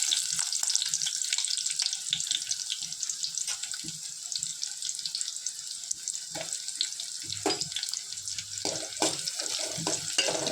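Shallots and dried red chillies sautéing in a pan, a steady broadband frying hiss throughout with occasional light scrapes and clinks of a spoon, no talking.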